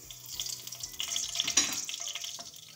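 Fenugreek seeds sizzling in hot oil in a pan for prawn onion curry, a soft steady crackling fry with light stirring, fairly quiet, no voices.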